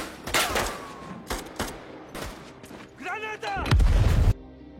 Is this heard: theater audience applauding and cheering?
no